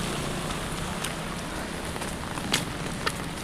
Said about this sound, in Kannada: ಇಲ್ಲೂ ಅಷ್ಟೇ ಹಂಗೆ ಜಿಡಿ ಮಳೆ ಐತೆ.